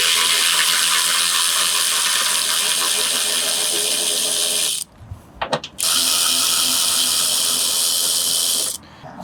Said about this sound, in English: today I'm using a power tool with a 10mm socket to make my life a little bit easier